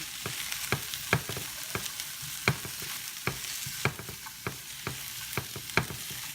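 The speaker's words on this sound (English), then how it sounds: "Next, I'm going to add 3 sliced button mushrooms. And we'll continue to just stir fry that a little bit." Sliced button mushrooms stir-frying in a pan, a soft continuous sizzle broken by regular sharp scrapes and taps of a utensil against the pan, close up with no voices.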